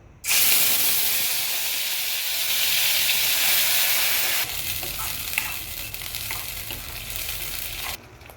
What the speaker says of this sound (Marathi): वाटण आपलं छान परतत आलं आहे